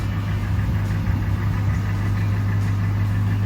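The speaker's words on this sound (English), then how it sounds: "Timing chain. I hear them." A truck engine idles with timing chain noise, a steady close mechanical rumble under a faint ticking rattle that keeps an even rhythm and runs on without pauses.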